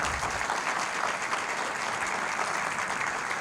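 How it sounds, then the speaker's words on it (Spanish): A church congregation applauding during a worship service, a dense, steady wash of many hands clapping at once, loud and sustained throughout with no pause. "Aplauda al Señor."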